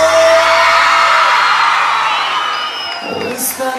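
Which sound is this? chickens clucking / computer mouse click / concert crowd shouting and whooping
concert crowd shouting and whooping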